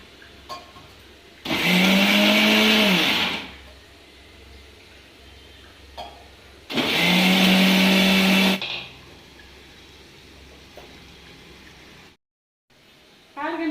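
An electric mixer grinder grinding a spice mix for mutton kulambu runs in two loud whirring bursts of about two seconds each, separated by quieter pauses.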